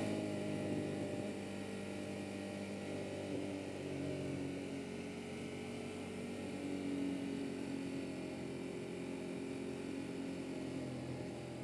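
Ducati Monster 1200S motorcycle ridden along a small winding road in second gear, a continuous engine drone with wind rush, fairly steady in level with slight swells, heard from the rider's position without talk.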